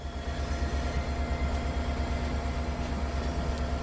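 A Boston Sprinter train runs through a rail yard in Train Sim World 2, with a steady low rumble and hum of the moving train throughout and no talk.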